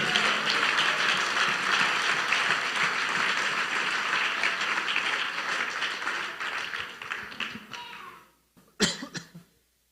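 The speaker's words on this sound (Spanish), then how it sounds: "Dele ese aplauso a Jesús esta noche." A church congregation applauds during a sermon, sustained dense clapping for about eight seconds that fades out, followed by scattered coughs and a few last claps in a quieter room.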